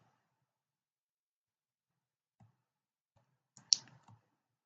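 A computer mouse gives a few faint, isolated clicks in a quiet room, with one sharper click standing out near the end.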